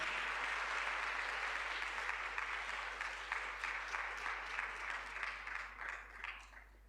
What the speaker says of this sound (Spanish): Nuevamente, un fuerte aplauso para el doctor Rojas.